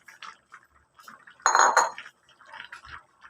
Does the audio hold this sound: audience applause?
no